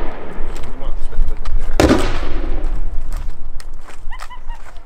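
Musket volley fire during a Jacobite living history reenactment at a Scottish castle, a single loud blast amid a noisy crowd with shouting voices throughout.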